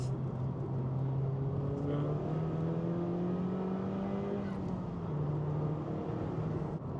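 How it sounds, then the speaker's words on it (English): A ten-year-old Honda Civic Type R FK2 hatchback pulls hard on its turbocharged engine. The engine note climbs steadily and loud from inside the car, eases off briefly, then keeps going, with no talking. "That engine pulls so well."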